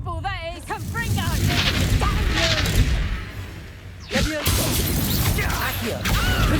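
Confringo blasting spells go off during a Hogwarts Legacy duel, booming impacts and crackling bursts layered with combat noise, while voices shout over the fight.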